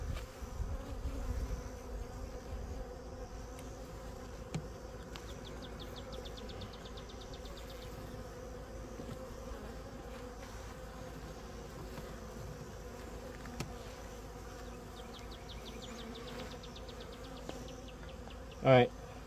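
Honey bees buzzing around a hive, a steady low swarm hum with individual bees droning past close by, faint and continuous, ending with a brief louder rustle.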